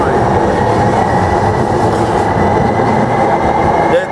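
A train rumbles past close by, a loud steady roar of rail wagons with faint clattering wheels that holds evenly before cutting off at the end; a voice may sit faintly underneath.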